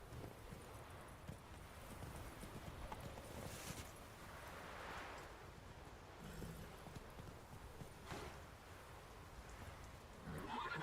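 Roach, a horse in the fantasy game The Witcher 3, walks with steady, soft hoof clops over a quiet ambient bed that carries faint rain-like hiss, no one speaking.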